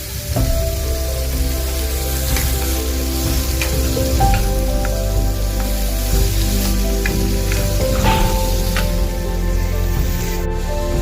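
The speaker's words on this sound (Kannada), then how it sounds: "ಚೆನ್ನಾಗಿ ಫ್ರೈ ಮಾಡ್ಕೊಳ್ಳಿ" Ingredients for a cucumber chutney fry steadily in a pan, giving a continuous close sizzle with occasional light scraping and clinks, and no talking.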